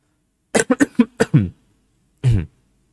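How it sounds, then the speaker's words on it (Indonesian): A quick run of five or six dry coughs, a short pause, then one more cough, close up and otherwise quiet. "Mohon maaf ya, agak batuk."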